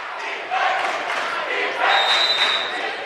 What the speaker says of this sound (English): the Viking students with something to cheer about here